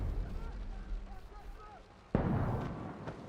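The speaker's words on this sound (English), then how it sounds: "And he's out there shooting them." Gunfire and blasts from a Last of Us TV episode, a loud sudden burst erupting after a stretch of lower rumble, with watchers reacting nearby.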